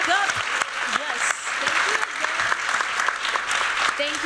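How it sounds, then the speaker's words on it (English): An audience at a Black in Design 2019 conference panel claps in a sustained, dense round of applause, with voices calling out through it. "clap it back up"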